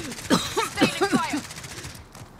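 Bursts of automatic gunfire in Call of Duty: Modern Warfare, a rapid stuttering fusillade under voices and game chatter, fading toward the end of the stretch.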